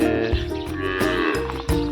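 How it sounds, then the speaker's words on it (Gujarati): A farm cow makes loud, close calls with low bellowing vocal tones. No voices are heard over it. "જો ગાય છે અમારી એક આ છે"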